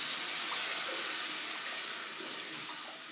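Water is poured into a pan while pineapple halwa is being made, giving a soft, steady hiss of running water for about three seconds that slowly fades a little, with no speech.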